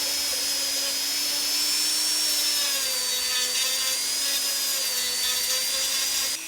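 A rotary carving tool shaving down the rib cage of a custom action figure, a loud steady high-pitched whir whose pitch dips and rises slightly as it cuts, with no speech.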